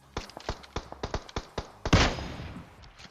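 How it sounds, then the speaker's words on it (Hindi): Rapid tapped bursts of M4 rifle fire in a video game, a string of sharp close shots in quick rhythm ending in a louder blast that trails off. "मेरे टीममेट पे चला रहे थे ना M4 कतई टैप टूप करके पटापट चला रहे थे"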